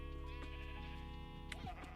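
Minecraft sheep bleat in a video game, a few wavering nasal bleats layered over steady tonal background music, close and clear, with no talk.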